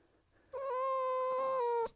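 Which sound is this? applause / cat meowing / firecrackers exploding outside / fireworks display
cat meowing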